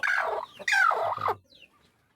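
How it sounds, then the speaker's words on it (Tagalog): Loud, close Rhode Island Red chicken vocalizations in two bursts, a drawn-out clucking call followed by another, trailing off into quieter sounds. "Mga Rhode Island na mga manok yan."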